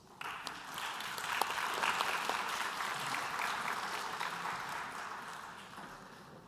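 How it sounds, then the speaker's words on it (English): A conference audience at an international world-harmony gathering bursts into applause to welcome a speaker, swelling quickly into a dense, sustained ovation that slowly tapers toward the end. "Please give her a big round of applause."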